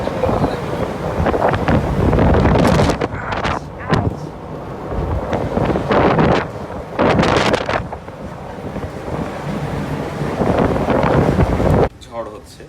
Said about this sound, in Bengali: বাইরে অন্ধকার হয়ে গেছে, প্রচণ্ড বাতাস আর বৃষ্টি, রোলিং হচ্ছে জাহাজ,